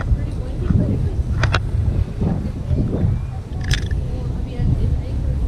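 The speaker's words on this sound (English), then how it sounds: "it was pretty windy" Steady outdoor wind buffets the microphone at a naval museum beside the water, a constant broadband rush under two people chatting, with a couple of brief higher-pitched creaks.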